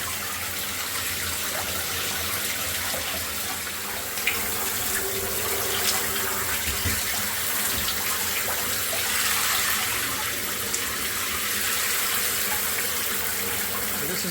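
Water runs steadily from a tap into a bath, a continuous splashing rush with a constant level, and nobody speaks.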